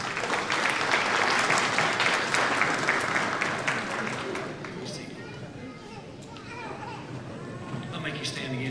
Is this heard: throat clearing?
no